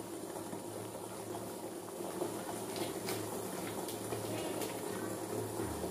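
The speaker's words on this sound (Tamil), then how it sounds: "நல்லா கொதிச்சுட்டு இருக்குது." Water boils steadily in a pot on a home stove, a soft continuous bubbling and hiss, quiet and close, with no talking.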